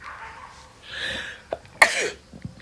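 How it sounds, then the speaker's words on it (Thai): A person sneezes during a bout of repeated sneezing blamed on changing weather, one sharp loud burst near the end of the clip after a few softer breathy sounds. "อากาศเปลี่ยนจามไม่หยุดเลย"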